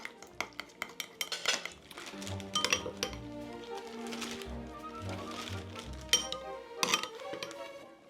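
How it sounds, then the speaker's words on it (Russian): A utensil clinks and scrapes against a bowl while salad ingredients are mixed with lemon juice and Dijon mustard, giving close, irregular metallic taps and stirring scrapes with a few louder knocks. "И это все хорошо вымесить."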